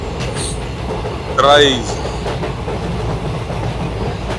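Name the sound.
long freight train passing on the rails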